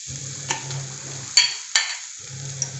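Garlic, ginger and onion sizzle steadily in hot oil in a pan, a continuous frying hiss broken by a few sharp clatters of stirring near the middle.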